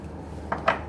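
Two quick, light clinks of a spoon adding coffee grounds to a bowl over quiet room tone, close by and brief.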